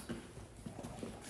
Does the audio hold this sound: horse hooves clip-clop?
yes